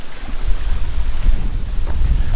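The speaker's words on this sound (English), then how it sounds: "it's quite windy on the bottom, so it's going to be blowing a gale up there." Strong gusty wind buffeting the microphone beside Buttermere lake in the fells, a loud, steady roar dominated by low rumble with no voices.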